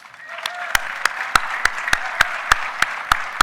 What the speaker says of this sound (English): I hear them cheering.